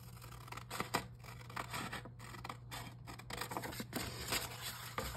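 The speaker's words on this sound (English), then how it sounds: "Alrighty, so I'm just gonna trim that." Scissors trim decorative digital-print paper for a shabby-style envelope, producing repeated close snips and paper rustles over a steady low hum, with no speech.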